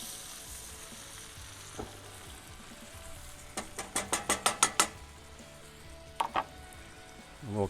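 Ribeye steak sizzling in a hot cast iron skillet after being flipped, a quiet steady fry with a burst of sharp metallic taps and clinks from utensils in the middle and later.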